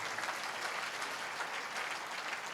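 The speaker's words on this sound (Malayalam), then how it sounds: "കൈയടിച്ച് കർത്താവിനെ സ്തുതിക്കട്ടെ." A congregation claps hands in praise at a healing service, a steady dense patter of many hands, moderately distant and continuous with no voices over it.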